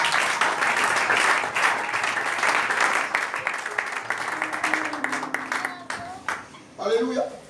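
A church congregation claps and cheers loudly during a sermon, dense applause that thins toward the end, with voices calling out over it.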